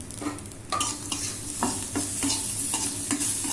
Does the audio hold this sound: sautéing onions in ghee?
yes